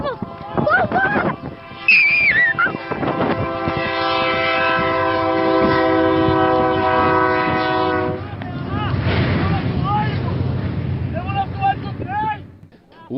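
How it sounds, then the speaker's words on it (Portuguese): A train on a rural railway crossing approaches, its loud, sustained horn blaring for several seconds over rumbling wheels, while people shout and talk excitedly nearby. "Olha aí o ônibus, olha aí o trem vindo."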